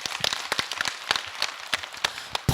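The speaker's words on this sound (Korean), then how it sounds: "다시 한번 크게 박수 쳐주시고" An audience at a Buddhist monk's question-and-answer dharma talk claps in a brief, moderately loud burst of scattered, overlapping hand claps, heard close with no talking over it.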